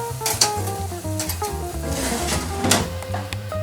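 Salmon sizzles and fries in a pan with a steady crackling hiss, close and loud, joined by some scraping and stirring sounds and a low background tone.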